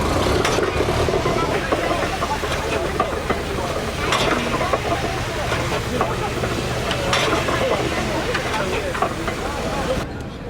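Steam engine running at an outdoor steam engine rally, a steady loud rumble with hissing steam and chuffing throughout, voices talking faintly in the background.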